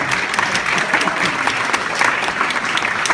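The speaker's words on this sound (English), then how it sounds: "Give yourself a big round of applause." A community meeting crowd gives itself a round of applause, a steady, full wash of clapping from many hands with no voice over it.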